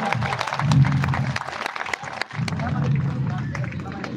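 Crowd applause rings out at a political mass rally as a speaker is welcomed to the mic, a loud steady wash of clapping over low crowd babble, dipping briefly midway before swelling again.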